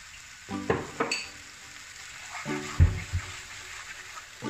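A spoon stirs dal makhani with spices in a pan, giving a few scraping, sloshing strokes in bursts with a soft sizzle beneath and quiet pauses between.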